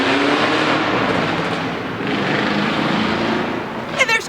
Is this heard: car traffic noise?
yes